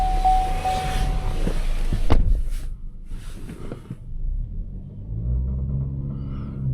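A used Lexus RX350 engine runs under load, a steady close rumble with a brief sharper rise partway through and a gentle fluctuating drone afterward, no talk.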